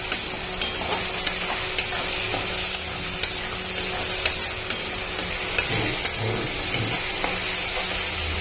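Onion paste fries in a pan with a continuous sizzle and hiss, broken by regular light ticks and scrapes of a utensil stirring, close and fairly quiet.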